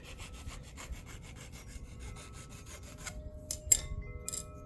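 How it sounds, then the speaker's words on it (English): A deburring tool scrapes around the outside edge of a freshly cut plumbing pipe, giving a series of quick, close rasping strokes and ending with a few sharper scrapes and a clink. "Then you get this, kind of take off the burr on the outside."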